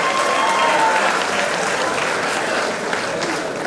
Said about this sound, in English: Please, a round of applause to Larry Mark International.